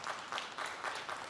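A church congregation applauds at a Malay-language gathering, producing a faint, distant patter of clapping in soft pulsing waves over a short stretch.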